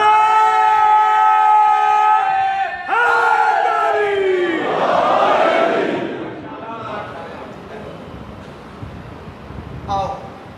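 A crowd at a Ramadan religious gathering chants slogans loudly in unison, a sustained tonal chorus that breaks into a roaring cheer and then fades into murmur.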